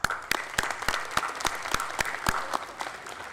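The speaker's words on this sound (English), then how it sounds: "can I have a round of applause for your parents" Applause at a high school academic awards ceremony: a moderate-sized audience claps steadily in a room, with individual claps standing out crisply and no talk over it.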